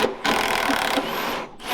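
A 5/16 drill bit grinds steadily into a metal bolt at close range, a dense rasping whir broken by short pauses near the start and end.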